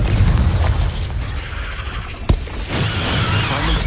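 A Confringo blasting spell explodes in a Harry Potter video game, one sharp loud blast midway through, followed by rumbling debris and a lingering low roar over background noise.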